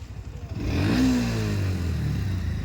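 A tractor engine in a market street, rumbling up and passing near with a rising then steady throb and revving growl that fades slightly toward the end.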